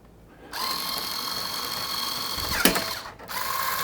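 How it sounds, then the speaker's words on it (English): A low-power drill turns slowly while leveling a column refrigerator, a thin steady whir starting after a short pause, with a brief sharp click near the end before the motor resumes alone. "I've got a fairly low power drill."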